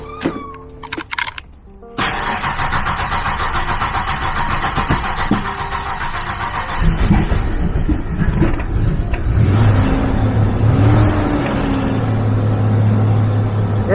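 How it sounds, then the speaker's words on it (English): A 30-year-old Ford Explorer cranking over after sitting overnight in the cold, a few faint clicks and then the engine catching abruptly into a loud, steady idle that rises slightly in pitch, with no talking. "Let's see how it starts up in the cold."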